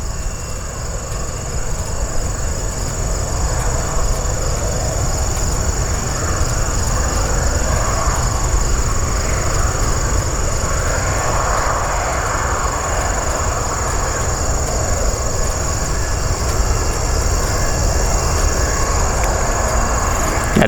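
A Spirit Airlines Airbus A320 jet at an airport, its engine roar steady and loud throughout, with a constant high whine over it.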